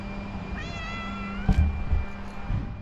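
A cat meows once with a long, wavering, rising-and-falling cry over a low steady hum, followed by a few soft thumps and rustles.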